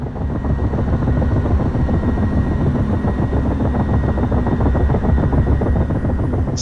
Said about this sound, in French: En trimant l'appareil, en vol rapide, un claquement des pales peut s'entendre.